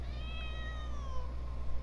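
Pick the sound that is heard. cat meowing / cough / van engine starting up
cat meowing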